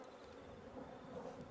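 Honey bees buzz steadily at a two-box beehive, a continuous, even drone that is close but faint, with no voices.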